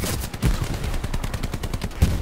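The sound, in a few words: gunfire in a squad shooter video game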